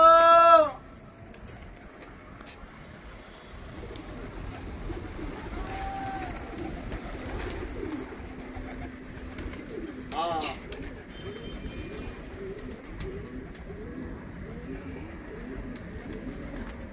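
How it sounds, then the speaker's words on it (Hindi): Pigeons on a rooftop loft in Delhi coo softly and repeatedly over a steady outdoor background, with a brief bird call at the start and murmuring voices in the distance. "ये आवाजें लगना शुरू हो जाएंगी, ये कबूतर इसमें बने हुए रखे हुए"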